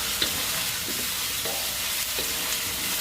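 Mixed vegetables being stir-fried in a pan, a steady close sizzle with soft scraping stirs coming in irregular bursts, no talk.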